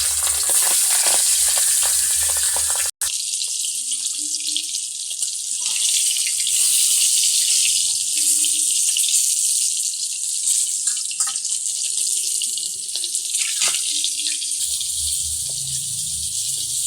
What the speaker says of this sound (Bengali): তেল দিয়ে দিচ্ছি, তেলে মাছগুলোকে এবার ভেজে নেব।